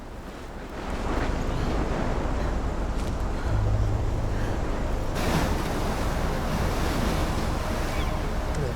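Storm wind and crashing waves in the video game Life is Strange, a loud continuous surf roar with gusting wind that builds after the first second and keeps churning, no voices.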